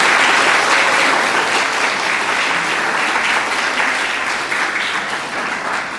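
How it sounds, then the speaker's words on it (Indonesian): Sustained applause from a church congregation honoring the Santo Yosef choir at an Easter Vigil Mass, a dense, steady clapping that fills the room and tapers slightly toward the end. "Kita berikan aplaus untuk lingkungan Santo Yosef."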